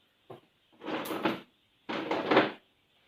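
A workshop drawer holding clamps gets pulled open and shoved back, giving a quick knock and then two longer sliding rumbles with rattling contents, close and loud, with no talking.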